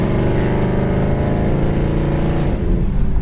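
A 1972 Chevy Nova's V8 engine revs hard as the automatic transmission kicks down, a loud, steady, rising engine drone heard from inside the moving car, with no voices.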